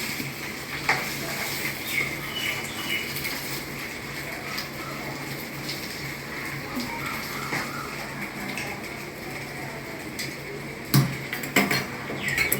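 Chicken pieces being stirred and fried in oil in a pan for chicken curry, a continuous sizzle with occasional scraping and clinks of a spoon against the pan, ending in a few sharp knocks.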